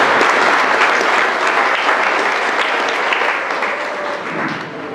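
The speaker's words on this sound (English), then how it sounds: "Nice round of applause for our booster officers." A crowd at a high school fall sports banquet gives a dense, loud round of applause for booster officers, a steady roar of clapping that slowly tapers toward the end.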